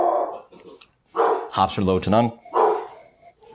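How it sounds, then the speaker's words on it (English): A dog barks several times at other dogs in a short, sharp burst, fairly close, with someone talking before and after the barks. "And now the dog is barking against the other dogs."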